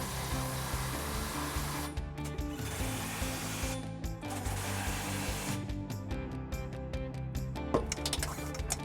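Impact wrench driving trailer hitch bolts on a 2018 Dodge Durango during a U-Haul hitch installation, heard as a steady mechanical whir broken by several sharp ratcheting bursts, fairly loud and close with no talking.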